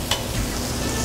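Garlic sautéing in butter that is just starting to brown, a short continuous sizzle with one brief louder spatter at the start.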